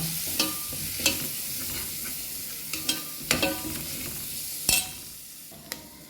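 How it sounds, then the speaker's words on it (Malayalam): Chicken curry masala frying in a pan while being stirred, a constant soft sizzle with repeated sharp scraping clicks of the spoon against the pan, close by and without talk. "ഇതൊക്കെ ഒന്ന് ഇളക്കി മൂപ്പിച്ചെടുക്കേണ്ടത് കേട്ടോ"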